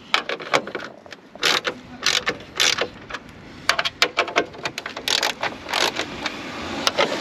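Short clicking ratchet bursts from a hand tool loosening the four 10 mm bolts across the top of a Land Rover Freelander 2 front bumper, coming in quick irregular spurts with brief pauses between, close and fairly clear.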